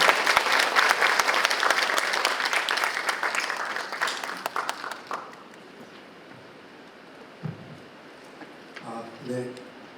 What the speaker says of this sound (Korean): 큰 박수로 김태호 선생님을 모시겠습니다.